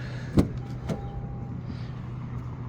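Car door of a Toyota Grand Highlander Hybrid opening and thumping shut, two sharp knocks in quick succession followed by a quiet cabin hum.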